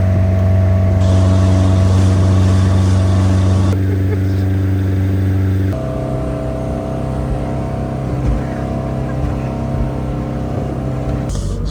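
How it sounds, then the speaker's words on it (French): A motorboat speeding across the water, its loud, steady engine drone shifting pitch partway through and running alongside rushing water, close by with no talking. "le bateau il arrive à aller super vite maintenant"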